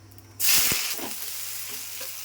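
Onions and green chillies drop into hot oil with a sudden loud sizzle, which settles into a steady frying hiss. No one speaks.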